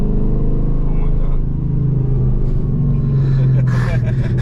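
A 5th generation Camaro SS with a violent shaking problem, its engine rumbling loud and low from inside the cabin while driving, with people talking over the drone.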